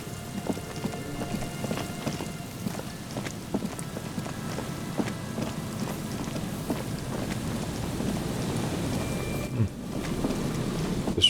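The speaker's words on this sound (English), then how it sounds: "This rain is making me feel depressed." Steady rain in the video game Disco Elysium, a dense, even patter of drops over a low rumble, continuing unbroken throughout with no voices.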